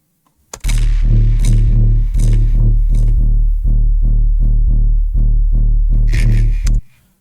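A booming 808 bass pattern in a Jersey club beat, loud and continuous, with repeated punchy bass hits in a fast bouncing rhythm and sharp percussive accents over the top, ending abruptly.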